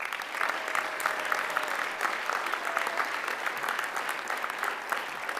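An audience at a university honors convocation claps steadily, a dense, even wash of many hands applauding without pause, moderately distant and uninterrupted.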